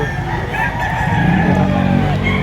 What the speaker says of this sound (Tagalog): napakarami ang manok na dumating